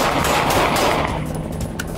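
Rapid gunfire erupts during a police traffic stop on a roadway, a dense burst of loud, close shots that blend into a continuous crackling volley, with a few sharper reports toward the end.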